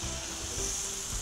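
Pork fillet sizzles in a hot pan with a drop of oil, a short, steady, moderately quiet frying hiss with no talk.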